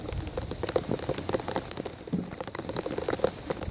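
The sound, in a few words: rain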